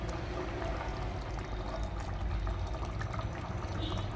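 Sweet corn kernels tipped into a pot of simmering wheat pulao on a home stove, giving a steady close pouring, pattering rush that runs continuously for several seconds with no talk.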